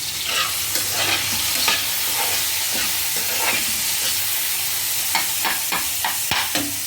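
A tomato coriander chutney sizzles steadily in a pan, with intermittent scraping and clinking as a spoon stirs it, all close and continuous with no talking.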